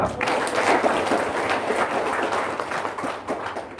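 An audience at a religious talk claps along, a short burst of moderately loud, scattered applause that tapers off toward the end.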